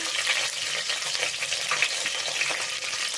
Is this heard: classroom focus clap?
no